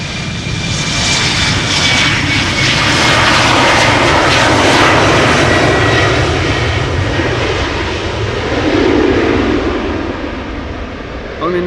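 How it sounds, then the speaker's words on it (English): An Embraer 190 jet departing Amsterdam Schiphol for Edinburgh roars loud and close, a broad sustained engine rush that builds, holds, and shifts in pitch as it passes, alone without voices. "This was an Embraer 190 on its way to Edinburgh."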